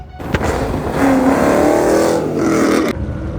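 A 2007 Ford Mustang GT with a 3-valve V8 and nitrous setup runs loud and close, its engine revving and holding a throaty drone before dropping off.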